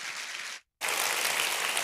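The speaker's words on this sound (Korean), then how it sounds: "막 발을 굴르고 손뼉을 치면서 환호성과 함께 우리 목사님 환영하도록 하겠습니다" A congregation in a church service claps and cheers loudly to welcome the pastor, a dense, steady burst of applause that breaks off for a moment, then resumes just as strong.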